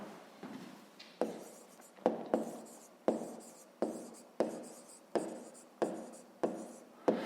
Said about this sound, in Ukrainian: Давайте напишу ще раз, щоб ви пам'ятали.